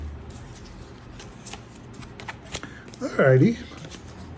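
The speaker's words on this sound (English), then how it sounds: "One more shuffle." Tarot cards riffle-shuffled close by in a brief burst near the end, after a stretch of quiet talking and soft handling noises.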